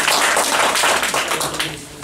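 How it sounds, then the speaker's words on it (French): Audience applause in a decorated hall at a local event in Nevers, a dense wash of many clapping hands that stays loud and steady before easing slightly at the end. "On peut vous applaudir effectivement."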